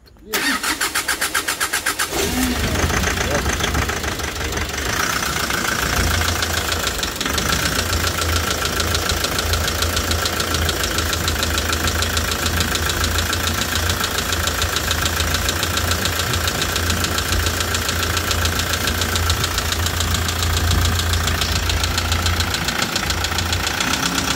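A Hyundai Porter 2 with a D4CB diesel engine cranks and fires about two seconds in, then runs loud and close with a rough, clattering knock for the rest of the stretch.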